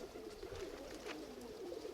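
Low, soft cooing of pigeons, a repeated throaty warble close by over faint background noise.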